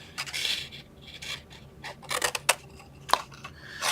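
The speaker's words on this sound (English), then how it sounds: "I'm going to cut that tab in half" Scissors cut a paper tab in half in a few short snips and rustles, close and fairly quiet, with pauses between the cuts.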